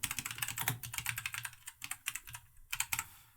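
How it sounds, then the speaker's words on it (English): Fingers type rapidly on a computer keyboard, a close, quiet run of crisp key clicks with brief pauses, entering search terms. "So what you want to do now is type them into Google."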